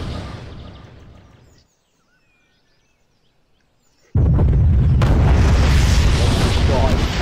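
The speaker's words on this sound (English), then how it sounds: "Santa Claus is black and has a rocket launcher" A rocket launcher explosion in a video game: after a fading rumble and near silence, a sudden loud, sustained blast roars in and stays heavy and dense until the end.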